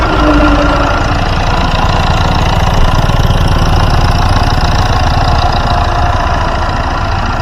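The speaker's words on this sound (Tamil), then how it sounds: "வண்டியோட இன்ஜின் சவுண்டு பார்த்தீங்கன்னா ஆன்ல தாங்க இருக்குது." A 2010 Hyundai i20 Asta petrol car engine idles steadily and loudly up close, with a constant low rumble and slight knocking vibration, no voices over it.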